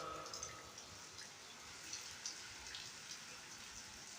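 Rain patters in Lahore, a soft steady hiss with scattered drips and faint ticks on surfaces, quiet and close with no talking.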